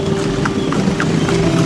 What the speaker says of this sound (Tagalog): so ito yung kabayo namin ni si Davis.